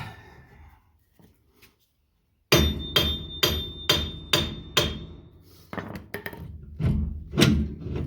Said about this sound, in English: you gotta give it a couple taps, get it pop loose